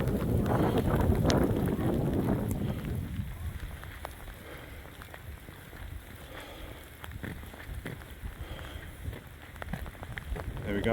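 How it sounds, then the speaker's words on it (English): Rain falls outdoors on a walk along the Wakering Stairs, heard as a steady soft patter with wind buffeting the microphone, heavier at first and then lighter, with someone speaking briefly. "I really wish it wasn't raining."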